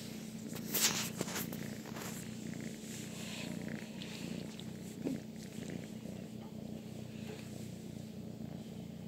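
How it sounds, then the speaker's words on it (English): A cat purrs steadily and close up, a continuous low rumbling hum for the whole stretch, with faint rustling and a light step or two near the start and no talking. "As for just now, he's purring."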